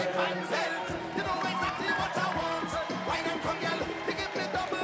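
Spectators cheer swimmers in a 1500 m freestyle race at a youth games pool, a steady wash of crowd noise and whoops with rhythmic thumping throughout.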